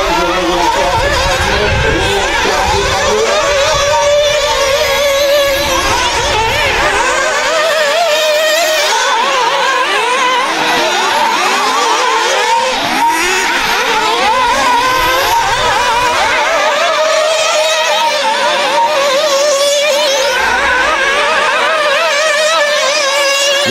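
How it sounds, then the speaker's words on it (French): Nitro RC cars race in an elite championship final, high-pitched engines loudly revving and whining as they come on and off the throttle, shifting in pitch throughout, with a commentator talking over them. "attention la remise de gaz Mathis"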